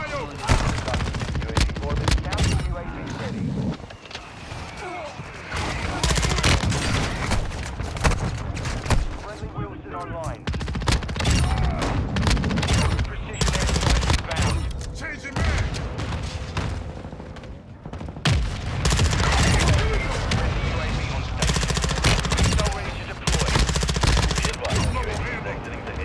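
Rapid gunfire and heavy mortar explosions from Call of Duty: Modern Warfare II crackle almost continuously in loud, dense bursts, with game voices talking over the battle.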